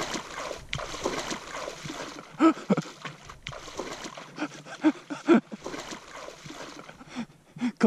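Splashing and sloshing water from feet wading through a cold river on farmland river bottoms, irregular bursts near and moderately loud, with a few sharper splashes, over a steady flowing-water background.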